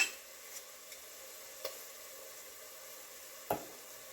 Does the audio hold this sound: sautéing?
yes